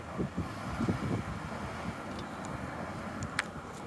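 Wind blows steadily outdoors on a sunny day, buffeting the microphone with a continuous low rumble and gusty roar, with a few faint high clicks and no speech.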